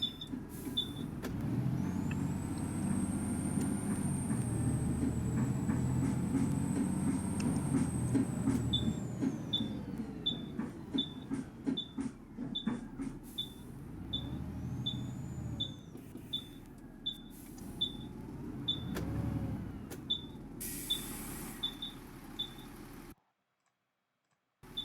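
Volvo B7TL bus with ALX400 body driven on a Yorkshire Counties route in OMSI 2: a steady low engine drone rises and falls, with a long whine and a regular ticking clicks throughout, close and loud with no talk.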